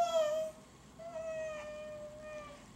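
A young child imitates a cat's meow in two drawn-out, wavering vocal cries, clear and close with a brief pause between them and no other talking.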